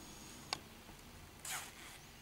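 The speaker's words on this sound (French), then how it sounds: "Vous prenez votre fermeture, vous l'ouvrez." An invisible zipper on fabric is pulled open: a sharp click, then a brief, close rasping zip, heard alone in a quiet room.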